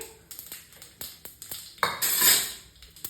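Mustard and nigella seeds crackle in hot oil for an arabi (taro) curry, with scattered sharp pops and ticks early on. About two seconds in, a louder, sustained sizzle takes over.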